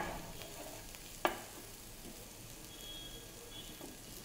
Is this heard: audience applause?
no